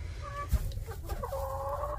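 Chickens clucking nearby, a few short throaty calls and a longer rising cluck, with soft rustling in between.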